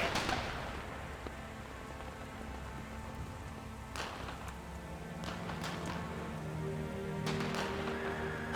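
Rain falls steadily in Metal Gear Solid 3, a constant close hiss of drops with a few sharper splashes and soft thuds scattered through it, while a low hum swells near the end.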